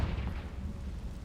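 A Confringo spell's blast effect: a loud, deep, rumbling burst that roars on without a break through its short span, with no voices.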